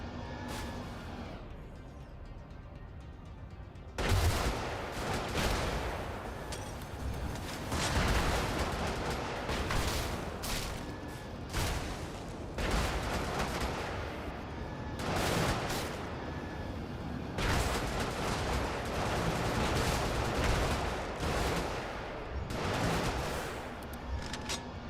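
Enemy gunfire in the mech combat game Brigador, loud bursts of rapid shots and heavy artillery-like blasts that come in repeated waves over a continuous rumble.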